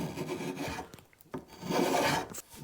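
A spokeshave shaves wood on a thinline bass guitar body, giving rough rasping strokes in two main passes with a short pause between, close and with no talk.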